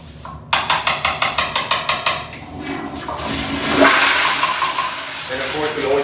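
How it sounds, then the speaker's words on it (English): A public restroom toilet flushes loudly, opening with a rapid series of about a dozen pulsing gushes before settling into a sustained rushing, swirling wash of water that continues to the end. "we always finish off by flushing the toilet so that any residue left in the bowl gets flushed away"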